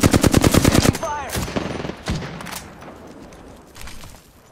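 Rapid automatic gunfire rattles in a battle royale video game, a dense close burst of shots giving way to scattered single shots and fading impacts.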